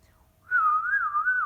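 A person whistles a single wavering, bird-like melody, clear and close, imitating bird song.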